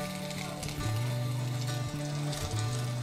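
Chicken pakoras frying in hot oil give off a steady, dense sizzle at close range, continuous and loud, under a sustained melodic music backing.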